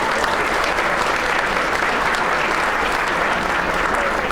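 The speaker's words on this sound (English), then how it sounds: "Let's give them a round of applause." A room full of people at an annual awards dinner claps steadily, dense and even applause throughout, without a break.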